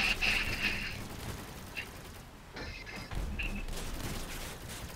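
Shotgun fire in the Crossout vehicle combat game: a few sharp, mid-distance blasts and mechanical clatter come in bursts amid engine rumble, fairly loud against the background.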